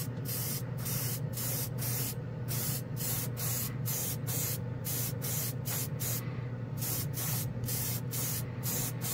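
Airbrush spraying Tamiya XF6 copper paint in steady bursts, a close continuous hiss broken by regular short pauses as the trigger is released, with no talking.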